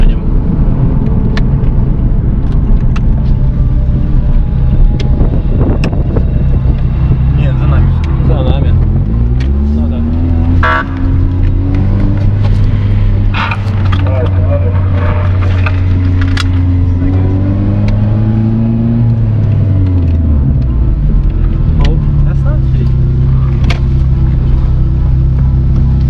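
A Lada Priora on air suspension drives and speeds up, its engine a loud, close, continuous rumble rising and falling in pitch through gear changes, with someone talking over it throughout.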